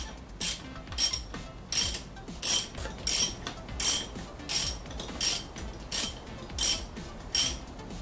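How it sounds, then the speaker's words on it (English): A ratchet wrench clicks in about a dozen quick, evenly spaced bursts while loosening the wiper arm nut on a Maserati Quattroporte M139, close up with no talking. "Firstly removing the plastic cover and then the nut."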